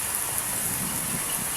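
Heavy rain pours steadily beside bamboo trees in strong wind, a dense continuous hiss with low rumbling gusts and no voices.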